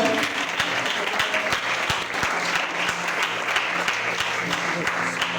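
A church congregation applauds during a worship service, with steady, sustained clapping from many hands, some sharp individual claps standing out, and voices faintly mixed in underneath.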